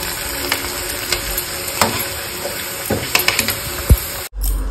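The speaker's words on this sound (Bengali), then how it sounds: "এদিকে চা বসে দিয়েছি, দুধ আর একটু জল দিয়ে ফুটছে। এদিকে পাঁপড় ভাজছি" Papad frying in hot oil gives off a steady sizzle, while a nearby pot of tea boils with milk and a little water. Scattered clinks and stirring scrapes punctuate the sizzle before it cuts off abruptly near the end.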